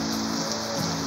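Steady rain pours down outdoors before a river fishing trip, a continuous even hiss of drops on surfaces with low tonal hum beneath, filling the short moment without any talking.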